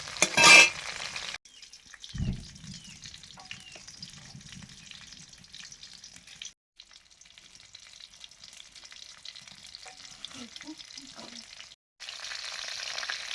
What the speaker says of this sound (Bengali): এখানে ইলিশ মাছের মুড়ো ভাজা হচ্ছে